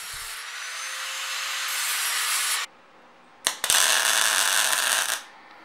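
Sanding the welded joints of a homemade boxing machine, a steady abrasive rasp running for a few seconds, breaking off, then resuming after two sharp knocks, close and fairly loud with no talk.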